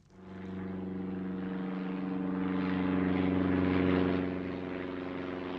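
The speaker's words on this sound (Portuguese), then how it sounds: "Os bombeiros derramam milhares de litros de água de aviões projetados especialmente para a missão" A propeller firefighting airplane drones overhead, a steady low engine hum that swells gradually and then eases slightly, with no voices.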